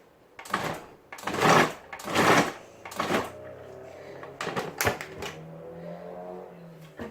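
A food processor whizzes onions and capsicum for kafta in short pulsed bursts, each a loud rough grinding burst separated by brief pauses, followed by quieter rattling and settling.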